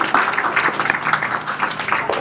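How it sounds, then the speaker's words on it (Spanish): A community audience at a Hispanic Week event in Lawrence applauds its organizing committee, a brief burst of mid-distance clapping with scattered cheering. "Un aplauso a este comité que logró eso."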